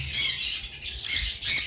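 A pair of lutino opaline Fischer's lovebirds squawks in a steady run of shrill, raspy calls at close range, with brief louder bursts near the end and no talking.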